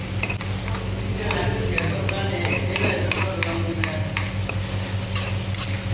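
Onions with freshly pounded ginger-garlic paste fry and get stirred in a pan for a bitter gourd pulusu, a steady close sizzle with repeated scraping stir strokes throughout, no talk.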